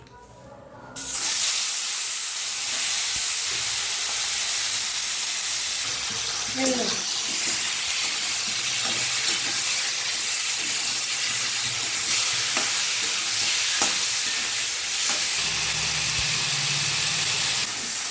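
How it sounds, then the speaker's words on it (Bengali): Chicken pieces rubbed with turmeric and salt fry in hot oil, giving a loud, steady sizzle and hiss with occasional stirring clatter; a voice talks quietly underneath. "মাংসটা ভেজে নেবো তেলের মধ্যে"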